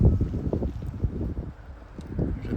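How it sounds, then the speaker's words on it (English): Strong wind gusts buffet the microphone outdoors at a boondocking spot in Corpus Christi, producing a continuous low rumbling roar that rises and falls. "Wow, the wind has really picked up."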